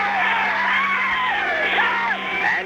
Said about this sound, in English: if you listen closely, you can hear someone yell, "Swim, Todd."